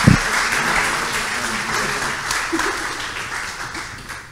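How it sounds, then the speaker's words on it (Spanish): An audience gives loud, sustained applause to welcome a three-person presenting team at a startup demo day, dense steady clapping from a large crowd that tapers gradually. "con un fuerte aplauso"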